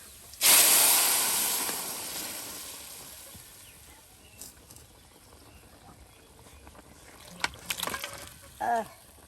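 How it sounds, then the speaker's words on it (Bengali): Meat is poured into hot tempered spices and erupts in a loud hissing sizzle that slowly fades to a soft bubbling, with faint clinks and brief voices near the end. "আর এই যে এখন মাংস ঢেলে দেওয়া হবে সেই বাগার দেওয়া মশলায়।"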